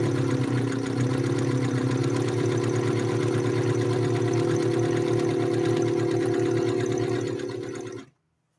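An Elna Lotus SP sewing machine stitching a 3-point zigzag, a steady close whirring hum with fast rhythmic needle clatter that runs for about eight seconds, then stops abruptly.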